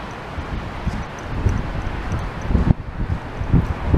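Wind buffets the microphone on a rainy beach walk, a steady low rumble with gusting swells and some rustle throughout, no talking.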